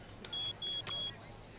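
Electronic beeping from a device, a few short high-pitched tones in quick succession, faint against a quiet room.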